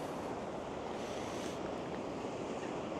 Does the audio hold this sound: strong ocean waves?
yes